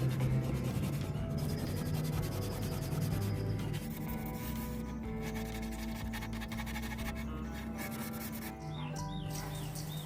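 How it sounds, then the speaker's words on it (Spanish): Sandpaper of 120 grit, used with a sanding sponge, rubs steadily over the curved wooden drawers of a French provincial dresser, a continuous close scratchy scrubbing sound with no speech. "Y comencé a lijar utilizando una lija número 120."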